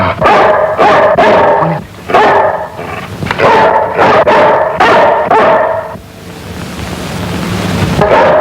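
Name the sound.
dog barking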